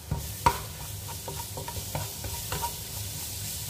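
Crushed whole garlic cloves hit a hot pan with a sharp sizzle, followed by a low, constant frying hiss and a few scattered taps of a utensil, close and fairly quiet, with no talking.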